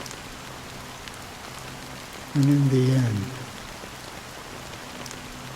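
Steady, soft rain hiss fills a rainy scene in the game Honkai: Star Rail, set in Penacony, and a short spoken line briefly rises over it.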